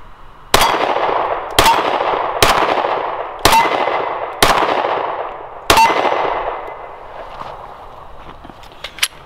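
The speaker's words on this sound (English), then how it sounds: "go ahead and shoot the 9 first. And the XD in 10mm." Six sharp gunshots from Springfield XDm pistols chambered in 9mm and 10mm, fired at roughly one-second intervals, each a loud crack followed by a long, ringing outdoor decay, with no talking.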